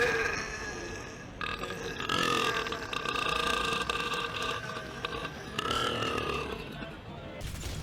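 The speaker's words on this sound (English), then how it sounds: "you have a shoulder-mounted flamethrower known as the Flame Belch" The shoulder-mounted Flame Belch flamethrower in the video game Doom Eternal fires in roaring, rasping bursts, with two or three long surges separated by brief lulls over a steady game background.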